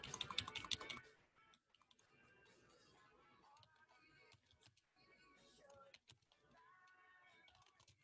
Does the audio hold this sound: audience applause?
no